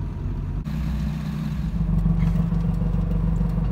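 A failing truck engine runs rough and uneven, a low clattering drone that shifts and strains partway through as the throttle is released, heard from inside the cab.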